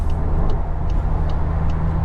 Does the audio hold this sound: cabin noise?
yes